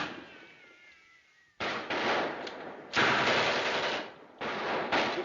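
A machine gun in an old adventure film scene fires in long, continuous bursts, loud and close, with short pauses between volleys and a faint rumble in between; no talk is heard.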